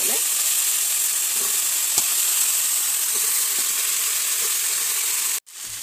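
Cumin seeds and garlic frying in hot oil for a taro and fish curry give a loud, dense, continuous sizzle close up, with a few faint clicks, and it cuts off abruptly near the end.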